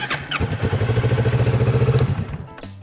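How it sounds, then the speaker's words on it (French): A Kawasaki Z650 motorcycle engine cranks and catches with a thump, chugging in quick rhythmic pulses for a moment before settling down, fairly close by. "Je démarre le moteur pour allumer le feu de croisement."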